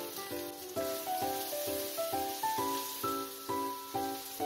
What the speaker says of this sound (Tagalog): Maggisa ng bacon na na-slice.